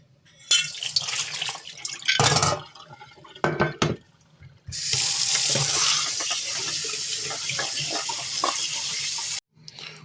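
Running tap water splashes close by as an antique iron key is rinsed, first in short bursts, then in a steady continuous stream for several seconds before cutting off.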